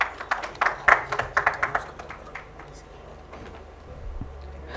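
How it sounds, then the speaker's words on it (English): A short burst of clapping from a conference audience, brisk and uneven, fading out after a couple of seconds into quiet room noise. "Let's give a round of applause"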